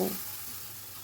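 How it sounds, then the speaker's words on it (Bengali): Spice masala fries in a pan with a spoonful of water added, giving a steady, close sizzling hiss with no talking. "দিয়ে আবারও মশলাটাকে ভালো করে কষিয়ে নেব"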